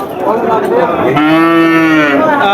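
Cattle at a post-Eid cattle market give a loud, close moo, a long drawn-out bellow that rises and holds, with a rougher lowing just before it and busy market noise underneath.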